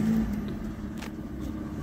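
A used car's engine idling steadily after a cold start, a low, even hum heard close up for a brief moment with no talking.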